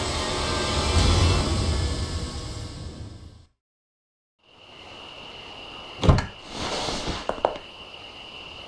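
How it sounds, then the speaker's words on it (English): A door opens in the video game Rite of Passage: The Sword and the Fury. A short creak and clunk follow a stretch of ambient rumble and a brief silence. It sounds moderately close, with no talking. "Open this door right now!"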